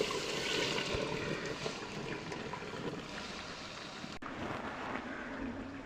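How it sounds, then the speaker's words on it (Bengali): Milk being poured into browned rice in a cooking pot for phirni, making a continuous rushing, gurgling liquid wash at low level. The pour runs steadily for several seconds, with one brief click partway through. "ব্রাউন হয়ে গেছে, দুধটা ঢেলে দেবো।"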